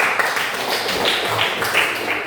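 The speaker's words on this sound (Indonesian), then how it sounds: "Dan kasih tepuk tangan." Students in a classroom give steady, dense clapping after a group presentation. It lasts the whole short moment at moderate loudness.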